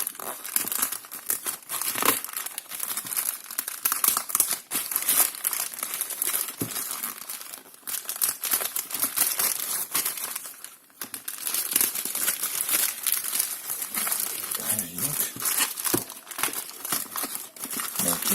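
Plastic packaging crinkles and tears as a small box cutter slices it open and the wrap is pulled away during a phone unboxing, close and continuous with short pauses, no talking.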